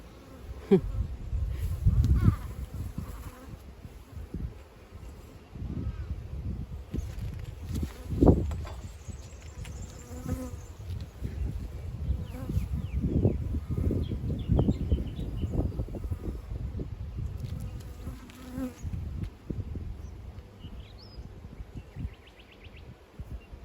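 Honeybees drone in a continuous low buzz while a top bar hive is opened and inspected, with close insects swelling and fading, scattered rustles and knocks of handling, and a faint bird outdoors.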